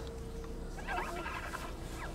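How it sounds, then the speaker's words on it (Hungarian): Small high-pitched rat squeaks chirp through a steady game ambience in the video game Stray, a few brief calls clustered in the middle and one near the end, fairly faint. "Csúnya potkányok."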